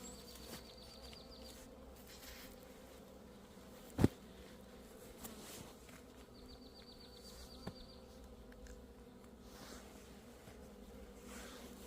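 Honeybees humming around a healthy hive in late winter, a steady low drone close by with a few brief knocks.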